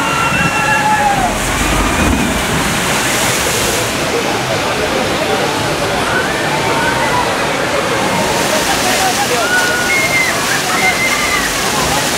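Water rushes and splashes continuously at a log flume ride at Busch Gardens Tampa, a loud, steady wash that lasts throughout, with faint crowd voices and a few high squeals over it.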